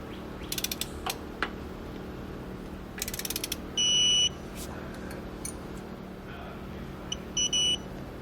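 A ratchet wrench clicking in quick rattling bursts while tightening rear anti-sway bar hardware on a 2015 Tiffin motorhome, with intermittent electronic beeps from a torque wrench, in a quiet workshop without talk.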